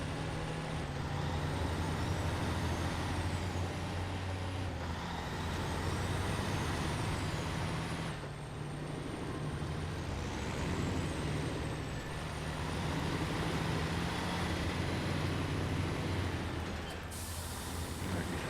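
A heavy truck in SnowRunner picks up speed, its deep engine drone steady and continuous with a hiss of air brakes and road rumble layered on top.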